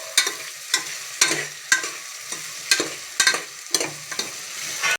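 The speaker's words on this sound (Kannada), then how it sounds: "ಇವಾಗ ಹಸಿ ವಾಸನೆ ಹೋಗೋ ಗಂಟೆ ಮಿಕ್ಸ್ ಮಾಡೋಣ." Chicken biryani masala frying in a pan on a home stove while a spoon stirs it, sharp scraping strokes at a loose irregular rhythm over a soft, steady sizzle, close up and without talk.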